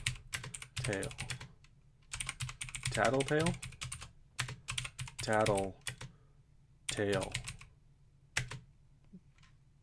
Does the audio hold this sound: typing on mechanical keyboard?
yes